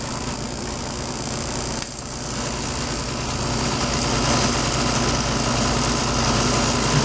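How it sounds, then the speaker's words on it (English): A small gas torch roars steadily while heating tungsten wire to drive out air during the making of a Fleming diode vacuum tube, a continuous broadband hiss and rumble that builds slightly louder with a brief dip early on. "So we use the small torch."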